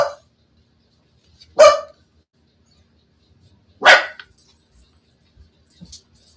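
Dogs give three separate loud barks spaced a couple of seconds apart, with near silence between them and a faint yip at the end.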